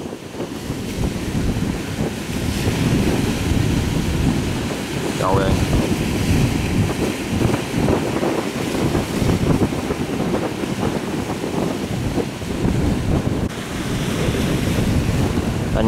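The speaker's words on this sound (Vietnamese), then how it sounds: "Càng ra xa thì sóng nó càng lớn nha các bạn." Large sea waves crash and surge under strong gusting wind, heard aboard a boat heading out to sea as a storm cloud approaches, a constant roaring wash with a brief exclamation from a voice.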